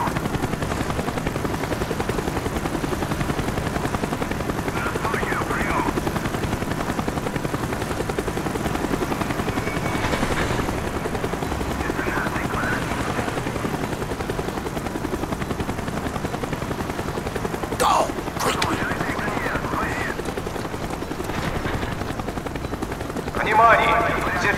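A helicopter in the video game Call of Duty: Black Ops thrums steadily throughout at a loud, constant level, with faint gunfire-like bursts and voices underneath.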